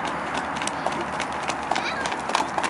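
A gentle horse ridden without a bit walks along, its hooves clip-clopping in a soft, irregular rhythm, faint beneath people talking nearby.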